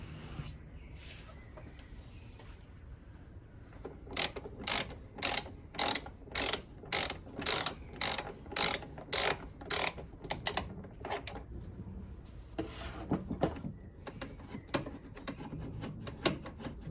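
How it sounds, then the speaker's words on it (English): Ratchet wrench clicking in a rapid, steady series of loud, close sharp ticks as a bolt is removed from the upper control arm area of a Mercedes W210, with quieter handling noises before and after. "Now I am removing this bolt from here."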